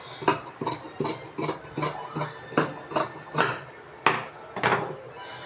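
Scissors snip through blouse lining fabric in a steady run of about ten crisp, close cuts, each a short dry crunch spaced roughly half a second apart.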